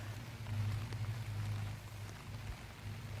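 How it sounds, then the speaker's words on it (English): Light rain falls in the woods, a faint, steady patter of drops on leaves and ground with a low background hum, no voices. "Now you can see that it's raining a little bit today."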